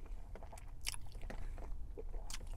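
Someone bites into and chews a McRib sandwich, with faint soft crunches and moist chewing sounds close to the mic over low background hum.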